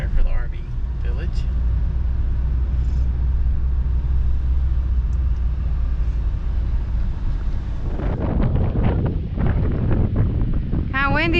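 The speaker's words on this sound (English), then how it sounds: "Kind of windy up here on the mountain." Strong wind on a mountain near Echo Bay at Lake Mead buffets the microphone with a loud, continuous roar, and someone speaks over it toward the end.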